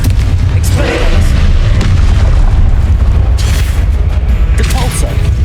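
Confringo blasting spells explode in Hogwarts Legacy, a dense, loud run of booming blasts and rumbling bursts with barely a gap, layered over continuous game action.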